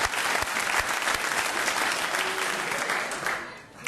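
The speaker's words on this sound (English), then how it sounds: "we should actually give him a round of applause for his winning attitude" A studio audience at a comedy panel show breaks into steady, dense applause, loud and close, sustained throughout before tapering slightly at the end.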